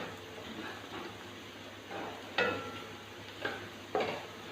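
Chopped onions frying over medium heat in a pan as they turn light brown for a masala bhindi (okra curry), a soft steady sizzle with a few scraping stirs of a spoon against the pan.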